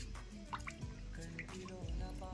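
Water drips in a slow, uneven series of small plops, fairly close and quiet, with no talk over it.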